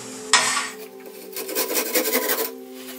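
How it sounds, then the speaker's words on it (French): A hand saw rasps through fir wood in a few short rough strokes after an initial scrape, close and fairly loud against a steady background hum, with no talking. "Alors, on va finir un petit coup de scie."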